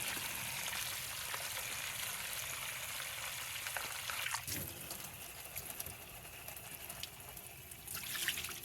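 Water sloshes and trickles as mud is floated out of a pan during gold panning in a mine, with faint splashing, dribbling and a brief louder slosh midway, quiet and close, no voices.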